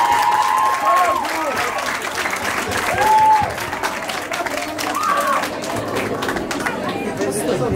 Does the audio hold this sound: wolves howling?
no